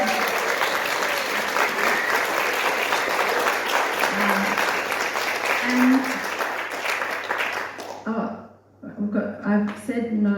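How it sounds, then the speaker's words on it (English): A crowd at a local meet-the-candidates election event claps steadily and loudly for about eight seconds, then the clapping dies away and a single voice starts speaking. "A big round of applause,"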